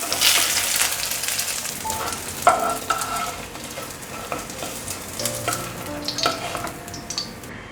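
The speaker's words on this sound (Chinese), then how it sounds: "豆包两面都煎成金黄色了" Tofu skin fries in a pan with a continuous crackling sizzle and occasional scraping stirs, close and steady with no talking.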